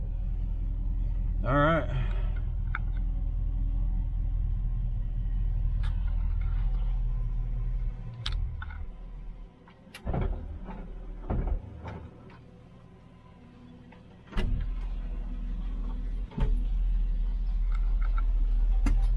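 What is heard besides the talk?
1934 Buick engine running after starting up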